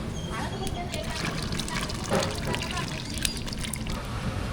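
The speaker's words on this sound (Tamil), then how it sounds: "கடைசியாக புளி தண்ணி சேர்த்துக்கலாம்" Tamarind water pours steadily into a pot for several seconds, a soft continuous splashing trickle with faint background voices.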